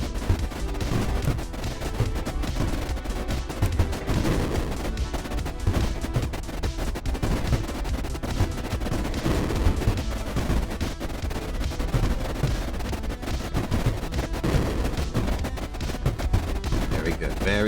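Weapons and gunships open fire in the strategy game Creeper World IXE, giving a dense, continuous stream of rapid gunfire bursts that stays loud and busy throughout, with no voice on top.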